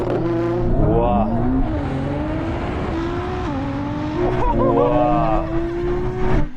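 A Ferrari SF90 and a Nissan GT-R launch in a drag race, engines roaring loud and close with rising, shifting pitch as they accelerate, heard in a vehicle with occupants exclaiming over the engine noise.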